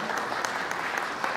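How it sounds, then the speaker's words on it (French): Applause from an audience at a community association gathering in Stains, France, a dense even wash of clapping hands sustained throughout the short moment. "ça mérite en effet un tonnerre d'applaudissements"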